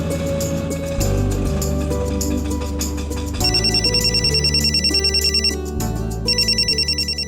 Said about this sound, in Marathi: राघवाचा फोन.